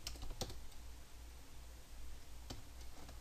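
Quiet typing on a computer keyboard at a desk, a few sharp isolated key clicks scattered over a low steady background hum, with no talking.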